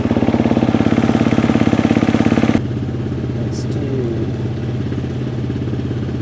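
A motorcycle engine idles in a shop, running with a rapid, even, throbbing beat. After about two and a half seconds the engine note drops to a lower, smoother idle that carries on steadily, and a couple of faint clinks sound near the end.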